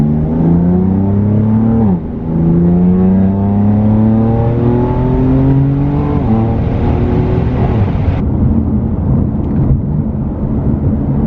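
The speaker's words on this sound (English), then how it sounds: "The single mid-pipe sounds so good. It's so deep and throaty." A BMW F80 M3 with Active Autowerke catless single mid-pipe exhaust pulls hard, its deep, throaty engine note rising loudly through two upshifts before settling into a steady cruising drone heard from inside the car.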